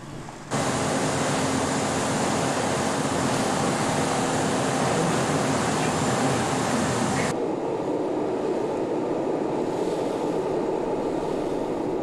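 A boat pushes through rough ocean waves off southern Australia, a loud continuous roar of wind, hull noise and spray that drops to a duller rush near the end, with no voices.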